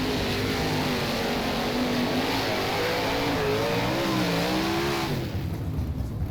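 A 410 sprint car engine in the rFactor racing game at Williams Grove dirt track roars loud and steady, its pitch rising and falling through the turns before easing off at the end, with no talking.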